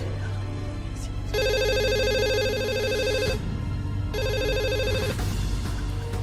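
A telephone rings in a tense Indonesian household scene, two bursts of a bright, tonal ringtone pattern sounding over a constant low hum with faint background activity.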